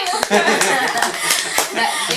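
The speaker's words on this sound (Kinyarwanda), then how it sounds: "Umukomera amashyi." A small group claps hands in applause, brisk close claps in an uneven rhythm mixed with chatter and light laughter.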